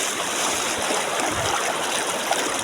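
Strong floodwater rushes in Kiamba, Sarangani, a dense, loud, unbroken roar of churning water with no voices.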